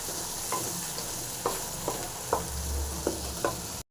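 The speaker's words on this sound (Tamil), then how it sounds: "ஏற்கனவே நம்ம நல்லா ஃப்ரை பண்ணிட்டு வதக்கிட்டு இருக்கோம்." Tender tamarind leaves fry and sauté in a pan for chutney, a steady close sizzle broken by regular soft scraping stirs about every half second, with no talk.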